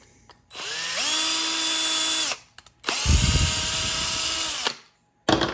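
A power drill drilling small holes in a 1/6 scale Sdkfz7 model kit whirs in two sustained bursts, spinning up and winding down between them, close and loud, with a brief pause in the middle.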